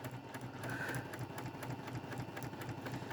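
A sewing machine fitted with a size 75 Microtex needle stitches taupe thread while chain piecing quilt sections, a close, rapid, even mechanical hum with a fast regular needle beat, steady throughout and with no talk.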